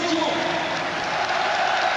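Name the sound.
stadium crowd applauding at Parc des Princes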